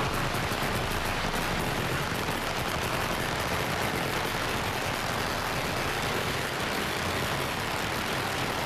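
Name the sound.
firecrackers exploding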